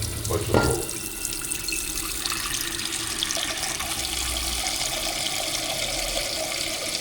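Water runs steadily from a tap into a container at a holiday spot, a continuous broadband gush after a brief clatter at the start, with no speech over it.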